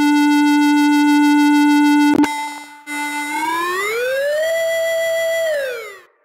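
Soundiron Theremin Plus, a sampled theremin, runs through effects presets: a steady pure tone that cuts briefly, then glides upward into a warbling, heavily processed pitch before fading out, loud and alone.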